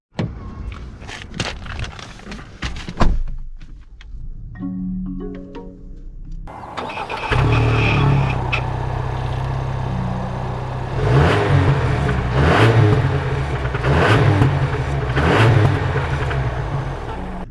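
A 2021 Lincoln Corsair Sport with a few clicks and a door thud, then the engine starts and settles into a steady, moderately loud hum, rising in short revving surges as it pulls away.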